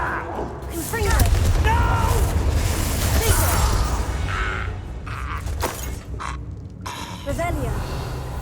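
A Confringo explosive spell is cast in Hogwarts Legacy, bursting into a loud shattering blast amid whooshing combat effects, with voices talking over and between the impacts.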